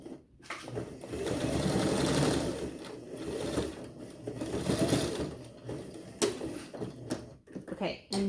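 A sewing machine runs in short bursts, stitching bias tape onto a fabric belt flag, its motor whirring close up between pauses while someone talks over it.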